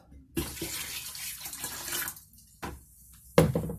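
The last litre of water poured into a mix of Kodak XTOL film developer, a close gushing pour lasting about two seconds, followed by short splashy bursts after a pause.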